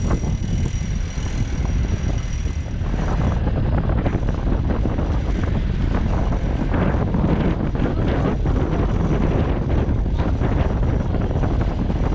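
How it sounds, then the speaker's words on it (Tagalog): Strong wind roars and buffets the microphone without letup, a dense rumble mixed with the wash of water. "malakas na yung hangin"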